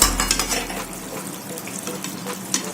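Onions cooking in a pan for a Rajasthani whole-onion curry crackle with a continuous close sizzle, and a few light scraping stirs are heard.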